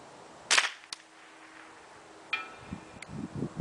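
A Ruger 10/22 rifle fires .22 LR rounds at a 12 inch bullet trap 300 yards out on a windy range: one sharp crack, then a faint tick and a few softer distant knocks, with wind rustling underneath.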